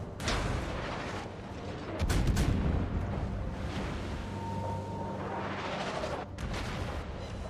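Battleship guns of the cruiser Moskva firing in a naval video game, with a few heavy booming salvos spaced seconds apart over a low, steady rumble of game ambience.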